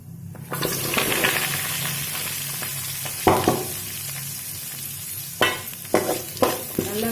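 Onion, green chilli, curry leaves and garlic hit hot oil for a country chicken curry, starting a sudden loud sizzle that holds steady, punctuated by several scraping stirs of a spoon against the pan, close up with no talking.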